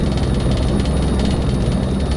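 The engine and rotor of a helicopter in a desktop flight simulator game drone steadily during a holding-pattern turn, a loud, constant low rumble with a faint high whine and no pauses.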